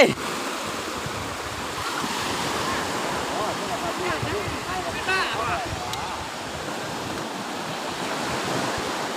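Steady surf rolls and washes continuously at Cha-am beach on the Thai coast, a broad roar of breaking sea waves with wind, nearby and fairly loud throughout.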